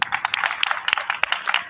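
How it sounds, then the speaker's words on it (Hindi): Members of a Python programming class give a short round of applause, with scattered light claps at close to moderate distance and no one speaking. "अपने लिए जोरदार तालियां भाई।"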